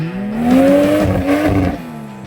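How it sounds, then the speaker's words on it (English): An 80 series 4WD with a Barra engine swap revs up, its engine note rising and climbing steadily in pitch, then dropping away on a steep, slippery off-road track. "Richo is driving his Barra swapped 4080 series with Brock in the passenger seat, and I reckon it's going to make some cool noises today."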